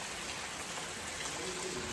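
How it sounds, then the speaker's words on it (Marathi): Monsoon rain falls in Khed, Kokan, making a steady, even hiss that fills the scene with no break or voices. "पाऊस पण पडतोय बघा मस्त."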